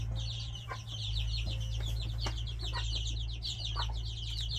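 Chickens in a backyard coop cluck and chatter nearby, a busy rhythmic stream of short calls over a steady low hum, with no talking.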